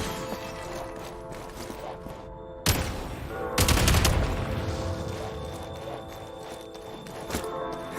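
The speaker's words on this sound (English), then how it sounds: "Shoot the explosives to detonate them and clear the path." Gunfire and explosive blasts in Genshin Impact, with a sharp burst followed by a louder, sustained detonation rumble over steady game music, then a few smaller hits near the end.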